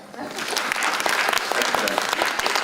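Audience at a post-secondary education talk claps after a lecture activity, a continuous, even patter of hands at moderate loudness, close by.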